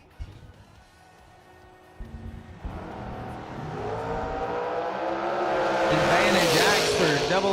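Dragster launching at a drag strip, starting as a low idle rumble, then a sharp jump into a rising, roaring engine scream that builds steadily louder through the end of the run.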